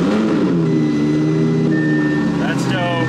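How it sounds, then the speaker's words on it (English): An Audi R8 V10 engine revs loudly and steadily, its pitch sweeping up and down, with a voice heard faintly beneath it. "Ah, the sound of a V10."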